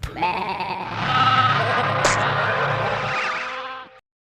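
A sheep bleats in one long wavering call, close and clear, with a bright quivering tone that fades out after about four seconds.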